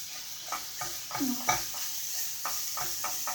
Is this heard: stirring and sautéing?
yes